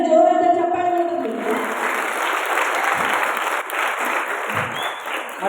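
Audience applause fills a hall in Belagavi during an Onake Obavva Jayanti celebration at Kumara Gandharva Hall. A tonal sound is heard at the start, then dense, steady clapping from a large crowd continues loudly to the end.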